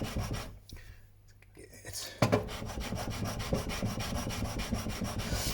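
A steel blade rubbed back and forth on a waterstone to grind a bevel, a continuous gritty scraping close to the listener, quiet and steady after a brief pause.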